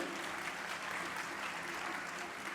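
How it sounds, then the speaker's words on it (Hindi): A large gathering at a religious assembly at Sammed Shikharji claps in a dense, continuous patter that stays even and fairly distant throughout. "ताली बजाइए।"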